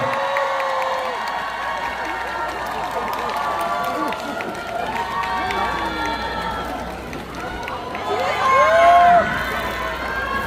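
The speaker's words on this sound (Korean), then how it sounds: "제가 올라가면은 박수 주시면 됩니다." A crowd at an outdoor concert during a red ginseng festival in Jinan claps and cheers in a broad, steady murmur, swelling near the end, while someone talks over it on a microphone.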